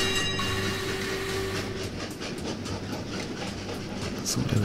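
A train rolls past in the railway game Train Valley, a steady, loud rumble with faint rhythmic clacking that runs through the whole stretch without a break.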